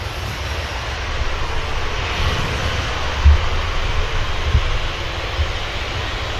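A heavy aircraft taking off at Manchester Airport gives a steady, broad roar of jet engines with wind buffeting the microphone, loud and sustained throughout, with no voices.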